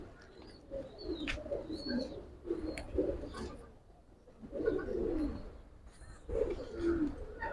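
Pigeons coo in repeated soft, throaty bursts, with several close calls rising and fading over a low background murmur. The birds are Giribaz pigeons, including a full-circle-eyed female.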